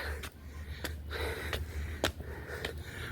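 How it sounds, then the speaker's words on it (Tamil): Heavy, close breathing after climbing Kailasagiri Murugan hill near Umarabad, Ambur, comes as quick rhythmic gasps about twice a second. "மூச்சு வாங்குது என்னால் பேச முடியல"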